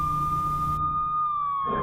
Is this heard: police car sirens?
yes